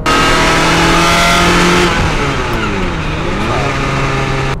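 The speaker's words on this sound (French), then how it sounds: "là ce que c'est un V8 Ferrari qui prend des tours" A Ferrari 355 V8 engine revs hard and loud up through the gears, its steady high-pitched howl climbing in pitch, briefly dipping, then rising again, with no voices over it.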